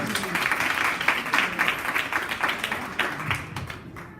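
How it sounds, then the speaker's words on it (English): At a book launch, an audience gives a round of applause, a dense patter of many clapping hands that stays strong before thinning and fading toward the end, with faint voices underneath. "Can we give him a round of applause?"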